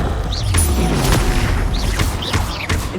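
A Confringo blasting spell goes off in Hogwarts Legacy, a string of deep booming explosions with crackling bursts that rumble continuously for a few seconds, loud and close.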